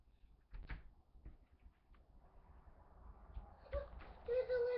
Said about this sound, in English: I'm scared to open the door.